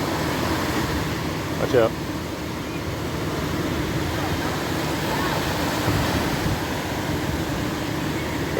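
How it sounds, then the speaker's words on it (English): Ocean surf washes steadily onto a Los Angeles beach on the Pacific, a continuous broadband rush with some wind buffeting, while people talk close by over it. "Waiting for the wave to come towards me."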